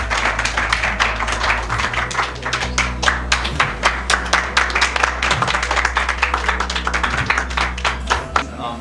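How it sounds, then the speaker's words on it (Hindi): Audience clapping at a poetry and spoken-word gathering in Hisar, a dense run of hand claps with sharp individual slaps over steady low hum, loud and continuous with no talk on top. "सर के लिए ज़ोरदार तालियां करें यार"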